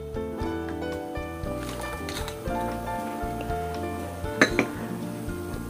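Beef broth with palm sugar being stirred in a pan, heard as a few light metallic clinks and scrapes of the spoon over steady background music, with one brief louder clatter near the end.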